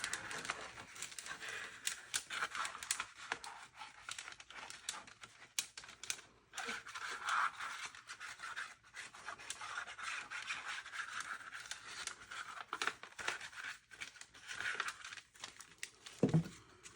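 Paper envelope being folded and handled, with a steady close-up run of soft crinkling, rustling and scratchy paper contact over several seconds, ending in a brief louder rustle.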